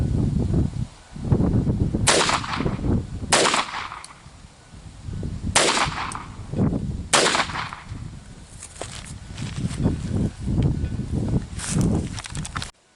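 Several loud gunshots fired at a rope target outdoors, sharp cracks spaced unevenly across the stretch with ringing tails and some handling noise between shots.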